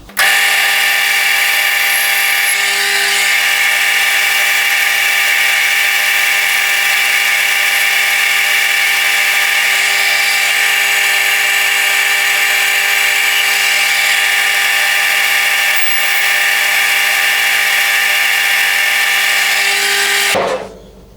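A metal lathe parts off a displacer piece for a hot air engine, a loud, steady, high-pitched whine with a bright cutting tone holding for about twenty seconds before stopping abruptly.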